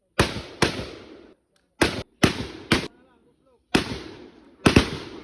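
Six sharp, loud gunshots from an M16 rifle fired outdoors, coming in irregular bursts with brief ringing decay after each crack.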